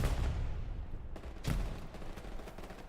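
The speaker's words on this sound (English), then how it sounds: "Seeing some grenades going off, explosions going off all around." Grenades and explosions burst in the WWII shooter Hell Let Loose in the Hurtgen Forest, a loud opening blast followed by another sharp boom and a rumbling stretch of distant gunfire.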